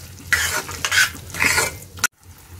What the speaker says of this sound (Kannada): ಒಮ್ಮೆ ಇದನ್ನು ಮಿಕ್ಸ್ ಮಾಡ್ಕೊಳ್ಬೇಕು.